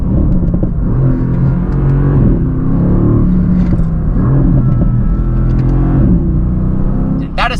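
A 2018 Mercedes AMG GT Roadster engine accelerating, a loud, deep, rumbling drone with revs rising and falling in waves, heard from inside the car under a speaking voice.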